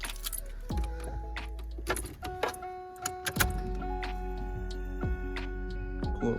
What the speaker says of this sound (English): Put the key in.